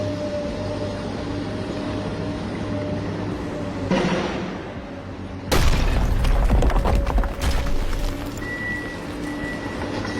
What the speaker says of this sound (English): it's 2 sound effects, a construction crane and a crash sound effect